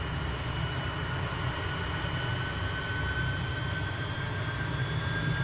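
A Hawker Hunter twin-seat jet accelerating down the runway for takeoff in Microsoft Flight Simulator, a steady broadband engine roar with a faint rising whine, moderately quiet and unbroken throughout.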